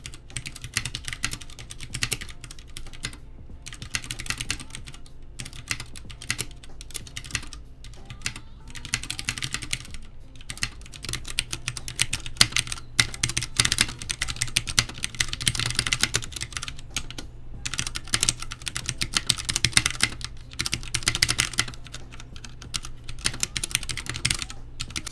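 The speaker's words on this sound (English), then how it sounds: "now here's that crispy keyboard ASMR you've been waiting for" Fast, crisp clacking from typing on a Ducky Mecha Mini Frozen Llama mechanical keyboard, a dense continuous stream of close keystrokes with no talking.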